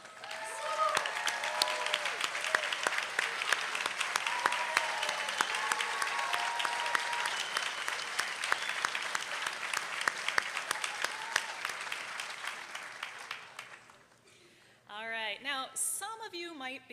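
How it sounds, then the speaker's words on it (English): Sustained applause from a large commencement audience honoring mothers and caregivers at a health sciences university ceremony, dense clapping for about fourteen seconds before fading, followed by a short stretch of speech. "please stand up so we can give you a round of applause"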